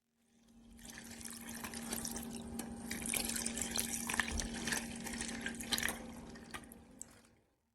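Hibiscus tea poured through a strainer over ice and lemons, a steady splashing trickle of liquid with faint drips and clinks, continuous for several seconds and close by.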